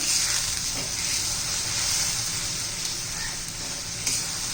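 Garlic chutney cooking in oil over a low flame gives off a steady, close sizzle and hiss, with a few faint stirring clicks and no speech.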